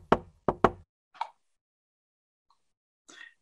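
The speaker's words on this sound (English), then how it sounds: "with a happy knocking sound." Knocks on a red wooden door, a quick cheerful pattern of three close, crisp raps followed by a lighter tap, then fainter sounds after a pause.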